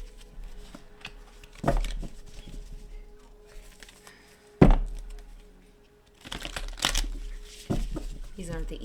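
A heart-shaped tarot card deck is shuffled by hand, giving sparse papery riffles, slaps and crinkles in separate bursts amid quiet gaps, with a voice talking at times.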